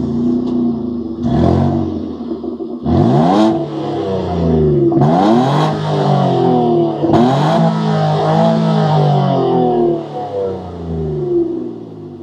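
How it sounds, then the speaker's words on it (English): The naturally aspirated engine of a 2024 Nissan Frontier pickup is revved hard in repeated, close, loud bursts through its exhaust, each rising to a snarl and then dropping back to a steady idle. "it's time we hear what this exhaust sounds like because there's no turbo involved"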